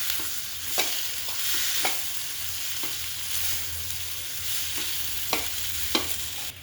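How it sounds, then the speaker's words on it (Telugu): Cut boiled potatoes fry in a pan with a continuous sizzle, while a utensil stirs them and knocks against the pan in repeated, irregular sharp clicks. "ముందుగా మనం బాయిల్ చేసి పెట్టుకొని కట్ చేసి పెట్టుకున్న ఆలు ఉడికించిన ఆలు వేసుకొని బాగా ఫ్రై చేసుకోవాలి"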